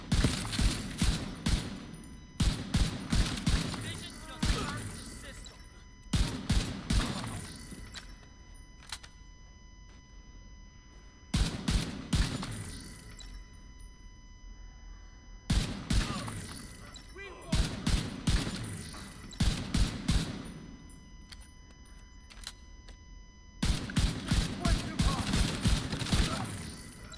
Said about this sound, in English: that gunfire?